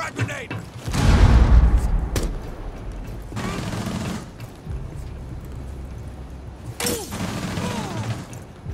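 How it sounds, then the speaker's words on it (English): A frag grenade goes off in Rainbow Six Siege, a heavy blast with a crashing, rumbling tail, followed by scattered gunfire and impacts while players talk over team voice chat. "Throwing frag grenade!"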